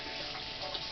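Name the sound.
water tap running while rinsing hands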